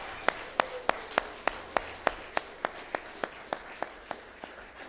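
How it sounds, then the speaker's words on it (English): Clapping at an Awana awards night for church kids: a steady run of about fifteen evenly spaced, sharp claps, fairly faint and distant, with no talking over them. "So those kids all deserve a real round of applause."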